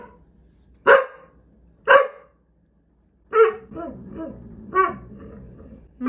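A pet dog barks and growls close by: two sharp separate barks, then a drawn-out run of grumbling, moaning vocal sounds and another bark, with quiet gaps between.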